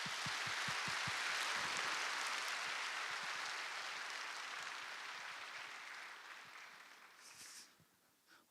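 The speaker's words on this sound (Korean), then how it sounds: "이 시간 강호길 목사님께서 성도님들에게 인사하실 때에 우리 큰 박수로 환영해 주시길 바랍니다" A church congregation gives a retiring pastor a warm round of applause, a dense, steady wash of many hands clapping in a large hall that gradually thins and fades out near the end.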